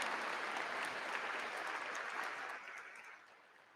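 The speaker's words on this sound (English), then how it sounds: "let's give our national anthem singers a round of applause and our band" Steady applause from a large high school graduation audience fills the space, dense and even, then gradually tapers off toward the end.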